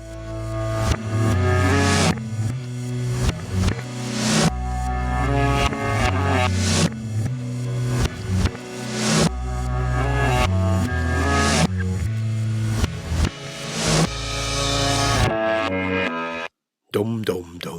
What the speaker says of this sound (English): Listen out for the twangy guitar part.